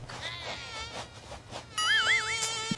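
A mosquito buzzing close by, a thin high-pitched whine that drifts and wavers in pitch, growing louder near the end, with no talk over it.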